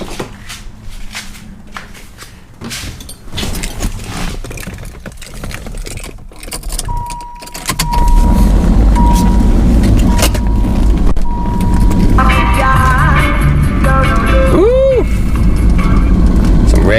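Keys jangle and a Dodge Viper GTS cranks over on a cold start, then settles into a loud, rumbling idle that carries on steadily, with a brief chirp partway through.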